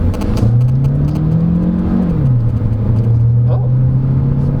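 A 2023 Jetour Dashing SUV in manual sport mode holds a steady engine drone that climbs, dips at a shift, then pulls on again, heard from inside the cabin.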